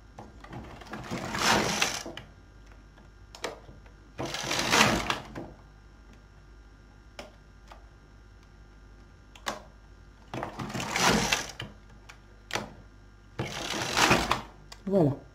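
A knitting machine carriage sweeps across a row with a whirring, clattering rush, repeated in four bursts separated by quieter pauses with small clicks as needles are raised.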